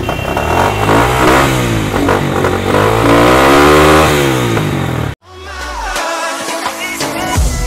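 A triple-hydraulic sports motorcycle in a Dhaka bike shop revs loudly, its pitch climbing and falling through repeated throttle blips, then cuts off abruptly before a rougher, lower idle with clattering picks up again.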